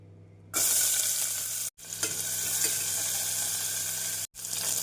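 Loud, steady sizzling of chopped onion frying in oil in a pressure cooker, starting abruptly and cutting out briefly twice, close by and without any voices.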